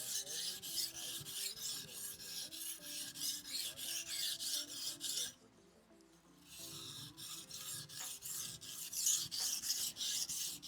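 A knife being sharpened on a whetstone, with close, steady rasping strokes in a continuous back-and-forth rhythm, a short quieter pause midway, then the scraping resumes.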